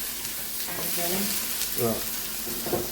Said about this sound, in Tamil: கொஞ்சம் மஞ்சளையும் போட்டு இதோட பிரட்டி விட்டோம்னா